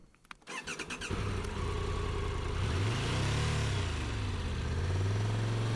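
A Triumph 1200 Rally Pro adventure motorcycle engine labours and bogs down with traction control on, a loud low drone rising and falling unevenly after a few sharp clunks at the start, close and continuous.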